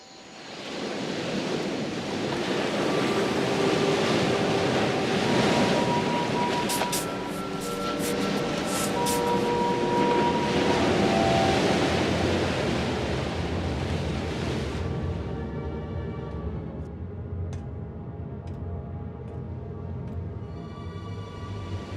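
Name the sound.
strong ocean waves in a film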